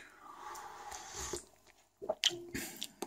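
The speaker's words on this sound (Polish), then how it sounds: "pozwólcie, że posiorbię trochę" Wet slurps and squishy sips of hot sorrel soup, close and quiet, in short bursts after a brief pause, with faint room sound between.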